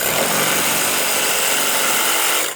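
Loud, steady whine of a power saw cutting through a 5.5-inch wooden porch board during framing and decking, continuous and close for a couple of seconds before stopping.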